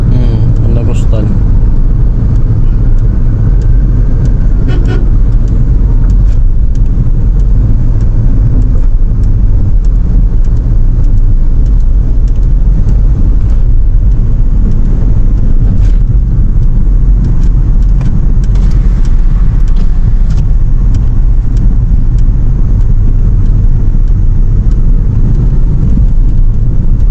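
Loud, continuous road traffic keeps up a heavy engine rumble as cars go by close to the microphone. People are talking over the noise.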